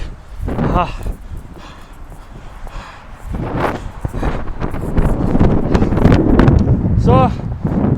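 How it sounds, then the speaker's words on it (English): Strong gusty wind buffets the microphone outdoors on an afternoon walk in Saskatoon, Saskatchewan, a loud continuous roar that swells and builds, with a few brief voice sounds breaking through. "It is very windy today."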